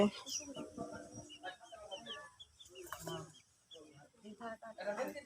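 At a rural Eid gathering where a chicken is being cut, chickens cluck faintly and in scattered bursts amid background voices and bustle.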